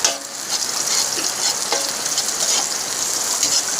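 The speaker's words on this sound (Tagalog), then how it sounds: "pag mainit na, ilagay natin yung bawang. Tapos sibuyas." Garlic and onion fry in hot oil for Bicol-style pancit, a loud steady sizzle with crackling spits and occasional stirring scrapes, continuous and close, with no voices.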